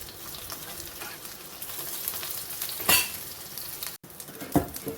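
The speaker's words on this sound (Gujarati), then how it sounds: "સેલો ફ્રાય કરી લઈશું. આ રીતે એને પલટાવીને આપણે બીજી તરફ પણ થવા દઈશું." Leftover masala khichdi kababs shallow fry in oil in a pan, giving a steady close sizzle with a few scraping clinks as they are turned.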